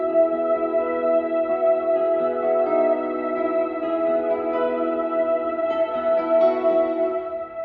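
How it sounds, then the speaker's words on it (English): A single sustained synth-guitar note played from a MIDI controller, held steadily and gliding upward in pitch, processed with echo, chorus and reverb effects, loud and alone with no talk. "So just holding down one note and then making it also rise up with this guitar."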